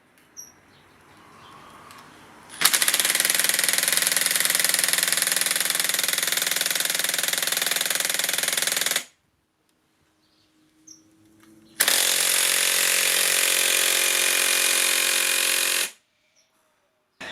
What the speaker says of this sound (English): with an impact wrench on it. Let's try the 100mm auger.